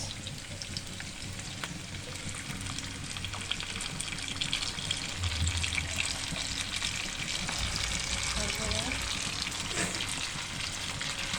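Steady, loud sizzling of onions and soy sauce frying in a pan for chilli chicken, continuous hiss with occasional stirring, no voices.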